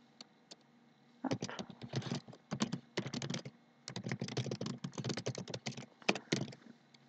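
Typing on a computer keyboard, heard as close, crisp key clicks in fast bursts separated by short pauses, with no talking.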